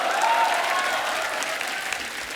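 An audience at a stage show featuring 1990s singers applauds loudly and steadily, a dense wash of clapping that fills the room without pause.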